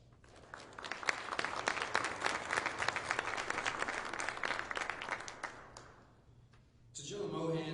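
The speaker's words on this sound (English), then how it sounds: "Let's give them a round of applause." Audience applause at a battalion change of command ceremony held during COVID, several seconds of steady crowd clapping that thins out near the end before a voice begins over a faint background hum.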